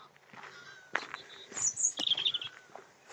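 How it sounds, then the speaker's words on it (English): A robin sings faintly in open marshland at RSPB Bowers Marsh: short high twittering phrases over a quiet outdoor background, with a couple of soft knocks nearby. "Robin."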